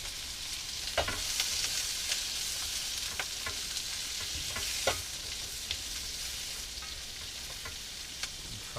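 Onions fry in a pan at a woodland camp, giving a steady close sizzle with repeated scrapes and clacks of stirring at irregular intervals, and no talking.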